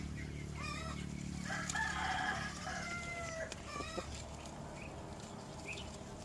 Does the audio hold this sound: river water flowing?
no